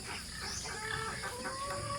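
Chickens clucking softly nearby, a few short irregular clucks over a busy farmyard background.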